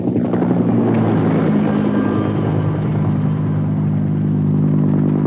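Loud, steady Los Angeles Fire Department water-bombing helicopter rotor and engine drone, close by and continuous throughout, with no talking.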